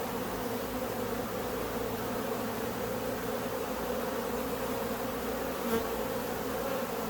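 Honeybees buzzing in an open hive during a beekeeping inspection, a continuous close droning hum of many bees holding steady throughout, without any voices.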